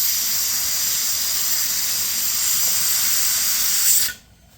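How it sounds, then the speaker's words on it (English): Steady loud hiss of steam venting from the small hole on a pressure canner lid, constant for about four seconds before cutting off abruptly, with no talking. "I've got a good stream of steam coming out of this little hole over here"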